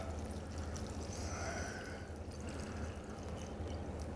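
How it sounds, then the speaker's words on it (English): Water is poured steadily into a stockpot on the stove to top up beef stock, giving a continuous soft splashing and rushing flow, close but fairly quiet throughout. "I'm just going to top that up with water."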